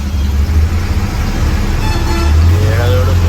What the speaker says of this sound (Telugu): ఇక్కడికైతే టోల్ గేట్ దగ్గర అయితున్నాం చూడండి ట్రాఫిక్ ఎట్లా ఆగిందో ఫుల్ ట్రాఫిక్ జామ్